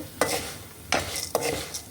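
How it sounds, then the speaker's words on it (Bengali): Mango seed kernels frying in oil, with a steady sizzle broken by several sharp scraping stirs of a spatula in the pan, close and fairly loud. "একটু ভেজে নিচ্ছি।"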